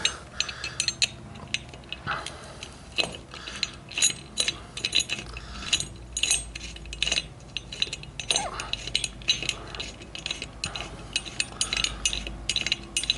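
Ratchet tightening a ground anchor fixing during installation, producing bursts of quick clicking pawl ratchets and metallic clatter, moderately close, in short runs with brief pauses and no talking.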